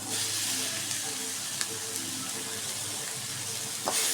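Onions and ginger sautéing in a pan, an even, moderately loud sizzle with faint occasional ticks and a brief clatter near the end, no one talking.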